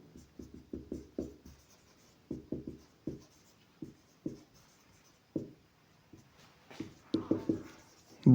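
A pen writes math by hand on paper, producing close, soft scratchy strokes in short bursts separated by pauses, with no talking.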